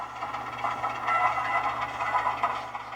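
An HO scale model of a British Rail "Rat" diesel locomotive runs on a model railroad, giving a steady, close mechanical rumble and hiss that holds at an even level for the whole stretch.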